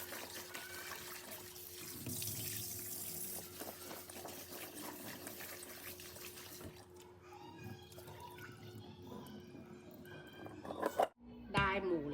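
Tap water runs steadily into a kitchen sink while a pumpkin is washed, with the splashing shifting in tone before the flow cuts off near the end and a brief clatter follows.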